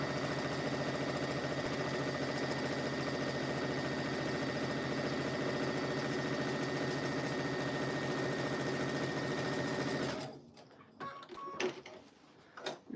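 A sewing machine runs steadily as it stitches quilt squares together, giving a fast, even mechanical whir for about ten seconds before it stops, followed by a few scattered handling clicks.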